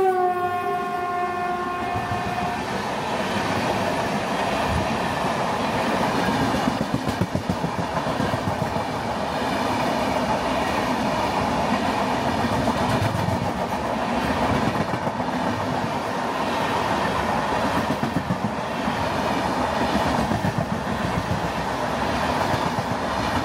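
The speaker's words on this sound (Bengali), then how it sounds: "হাওড়া থেকে 900 কিলোমিটার পথ চলে আমাদের ট্রেন এই মুহূর্তে এসে পৌঁছালো তার যাত্রাপথের 24তম স্টেশন মানিকপুর জংশনে" Howrah–Mumbai Mail (12321) running on its route toward Manikpur Junction, a steady loud rumble and rail clatter filling the whole stretch, with a horn blast sounding near the start.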